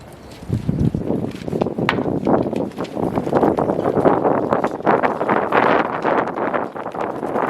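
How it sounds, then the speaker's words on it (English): Strong outdoor wind roars steadily across the microphone at a backyard patio-screen building site, a continuous loud gusting rush that swells and holds for the whole stretch. "Windy today."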